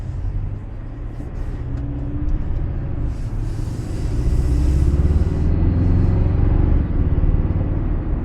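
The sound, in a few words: 2024 Toyota Tacoma driving in eco mode with pedal commander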